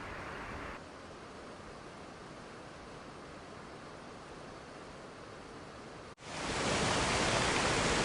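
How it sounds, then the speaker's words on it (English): Powerscourt Waterfall, a 121-meter cascade at the foothills of the Wicklow Mountains in Ireland, sends water gushing over rocks in a steady, dense roar that holds throughout and grows louder toward the end. "The gushing water over the rocks were rhythmic."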